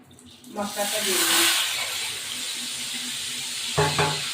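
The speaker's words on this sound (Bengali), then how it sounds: "এবার আমি মশলাটা দিয়ে দেবো।" Spice paste for chicken chaap dropped into a hot pan, a loud sudden hiss that settles into steady sizzling, with a brief voice near the start and again at the end.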